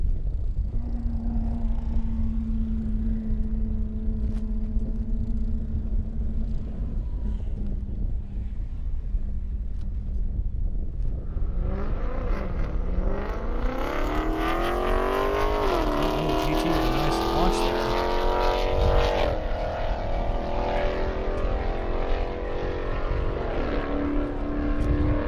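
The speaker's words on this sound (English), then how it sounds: "Brendan Doolittle going up against Marisol in the Continental GT" A Bentley Continental GT accelerating hard down an airstrip at an Indiana airstrip racing event, its engine rising through several gear changes under heavy wind noise, loud and steady throughout the run.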